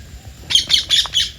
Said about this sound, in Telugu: అక్కడ నుంచి చూస్తే ఒక నాలుగు పక్షులు బాగా కొట్టుకుంటున్నాయండి